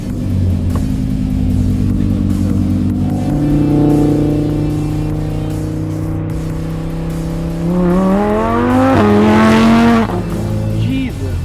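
An Audi R8 V10 in performance mode accelerates hard, its engine note climbing through several rising gear pulls to a loud, close howl near the end, with voices briefly under it.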